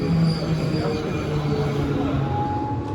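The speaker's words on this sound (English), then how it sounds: "But our first mode of transportation today is the train." A Hamburg metro train in motion: steady rumbling wheel and motor noise with a faint squeal and humming tones, close and continuous over a few seconds.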